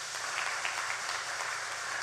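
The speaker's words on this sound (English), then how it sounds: "You deserve a round of applause for that" Crowd applause at a PNM general election rally, a steady, distant wash of many hands clapping with no clear individual claps, held evenly throughout.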